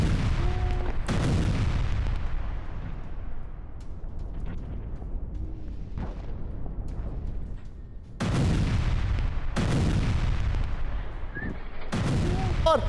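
Heavy explosions during an attack on a Hezbollah command centre in Beirut: several deep, loud booms stand out from a constant rumbling roar, one early and a cluster of three later on.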